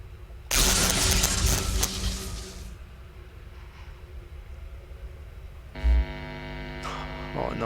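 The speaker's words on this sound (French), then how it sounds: "Administrer une nouvelle décharge électrique." An electric shock zaps Funtime Foxy in the Five Nights at Freddy's game, a loud harsh buzzing crackle lasting about two seconds, followed by a low electrical hum and a later buzzing tone with a thud.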